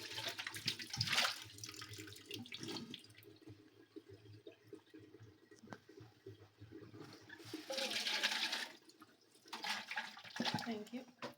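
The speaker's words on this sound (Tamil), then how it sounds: "பாட்டில் வாஷ் பண்ணுறாங்க." A bottle washed under a running tap, water splashing and rushing in uneven bursts, louder near the end, with quiet voices in the background.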